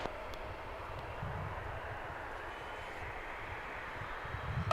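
A jet airliner takes off at DFW Airport, a distant, steady broadband engine roar holding at an even level throughout, rising slightly at the very end.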